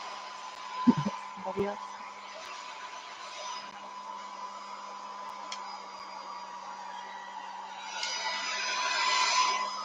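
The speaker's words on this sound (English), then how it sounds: "Again, I'm using a hair dryer with the cool button, so it's just like a fan." A hair dryer on its cool setting, used as a fan for drying stencil and Gelli plate craft work, blows with a steady whooshing hum that rises a little near the end, while a voice briefly speaks early on.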